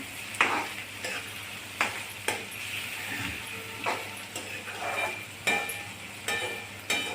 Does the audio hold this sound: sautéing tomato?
yes